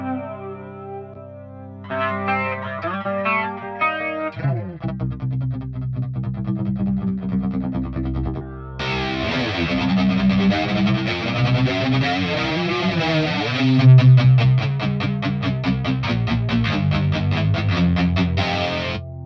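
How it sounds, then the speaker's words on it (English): Electric guitar through a Fender Hammertone flanger pedal set to negative polarity: picked chords and notes swirl with a sweeping, jet-like whoosh, the effect growing thicker and denser as playing continues, loud and alone. "With the negative polarity, you will emphasize the flanger"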